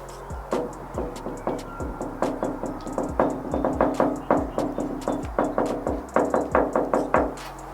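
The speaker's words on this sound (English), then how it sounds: "if you don't make beats with your knocks, you're lying" Rhythmic knocking on a hard surface forms a beat, with sharp thumps and quicker taps falling into a steady repeating pattern, close and loud, with no speech.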